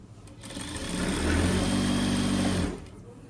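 A sewing machine stitches a tracksuit leg seam, its motor whirring up into a steady close hum for about two seconds before winding down and stopping.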